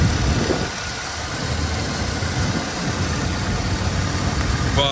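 A 1985 Oldsmobile Cutlass Supreme with a 2-barrel carburetor engine idles smoothly and steadily, close by, with a constant broad rumble and no talking.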